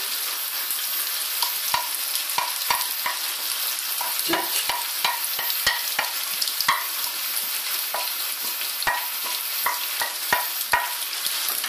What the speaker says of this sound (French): Je rajoute mes oignons, je les disperse un petit peu.